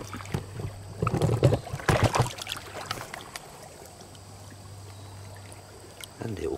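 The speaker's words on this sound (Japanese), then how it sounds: "水の音の中でもね、奥琵琶湖の音、極上だから" Water laps and splashes against stones on the shore of Lake Biwa in a series of close, irregular sloshes, then settles into a softer steady wash, with someone speaking now and then.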